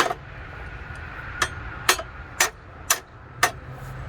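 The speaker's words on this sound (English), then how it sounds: "Have to go get my hammer probably." A hammer strikes the metal front suspension K-member of a C4 Corvette five times in a steady rhythm, sharp ringing clanks about half a second apart over quiet background noise.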